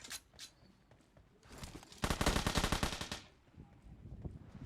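Gunfire in PUBG: a couple of sharp early shots, then a loud rapid burst of automatic fire lasting about a second, followed by quieter scattered sounds.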